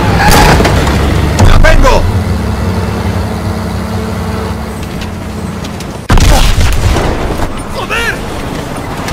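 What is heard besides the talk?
grenade explosion in video game Call of Duty: WWII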